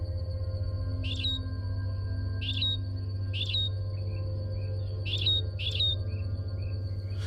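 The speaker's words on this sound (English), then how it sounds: "This simple song is sung by one of Darwin's finches" A Darwin's finch repeats a short, simple buzzy chirp several times at irregular intervals over a constant low droning hum.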